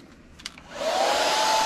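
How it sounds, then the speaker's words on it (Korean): A hair dryer powered from a Hyundai Ioniq 5 electric car's outlet switches on after a soft click and runs with a steady, loud airy whoosh and a faint motor whine. "자, 드라이기 먼저 사용해 볼게요."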